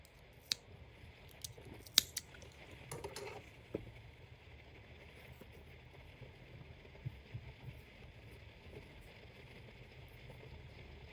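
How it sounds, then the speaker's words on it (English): Scissors snip through crochet yarn in a few quiet, sharp clicks spread over a few seconds, followed by near silence with faint room noise. "you can cut off the yarn"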